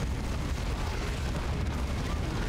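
A tank exploding in the game Warhammer 40K: Dawn of War 2, a loud rumbling blast with deep sustained roar that fills the whole moment without a break.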